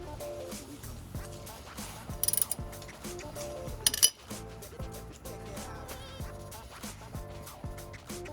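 Ratchet wrench loosening a brake caliper bolt on a 2022 Subaru BRZ during a brake pad change, with rapid clicking pawl passes and a couple of sharper metallic clinks, close and moderately loud.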